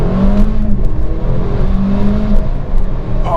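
A car pulls away gently in first gear, its engine holding a steady low hum with faint harmonic rises. The sound stays close and even for a few seconds, and nobody speaks.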